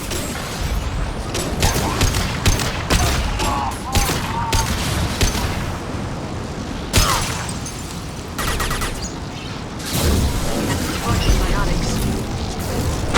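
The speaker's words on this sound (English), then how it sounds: "Watch out, flashbang!" Gunfire and a flashbang grenade blast from the video game Mass Effect 2, in the Lair of the Shadow Broker DLC. Loud bursts of shots and booms come in repeated clusters, and game voices speak over them.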